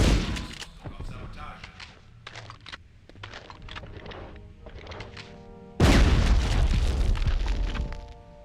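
Shotgun blasts in Medal of Honor on PlayStation boom near and loud, several spaced shots followed by a big sustained explosion-like burst, with a voice talking between them.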